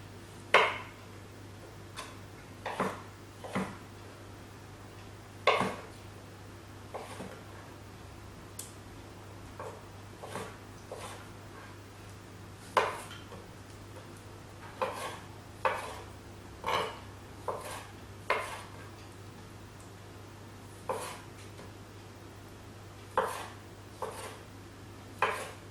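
A knife taps down on a cutting board while food for a salmon and sweet potato salad is roughly diced, sharp, irregular knocks spaced out over a quiet background hum, close and without speech.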